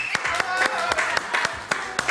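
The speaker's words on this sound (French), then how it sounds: "Je vous demande d'applaudir mon décor, les divines Noémie et Isabelle" Scattered audience clapping in a TV studio, sharp separate claps spaced through the clip under a voice and a faint musical tone.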